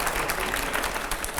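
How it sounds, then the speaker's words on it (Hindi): A brief burst of applause from a studio audience on a Hindi talk show, dense clapping held at a steady moderate level throughout, with no voices over it. "हर्षवर्धन जी आप ताली मारिए"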